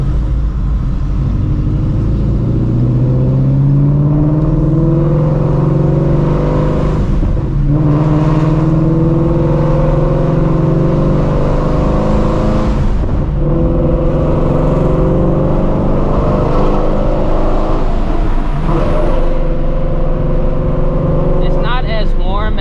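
Supercharged Shelby GT350 at full throttle, a loud sustained engine roar with rising pitch sweeps through repeated gear pulls, heard from inside the car.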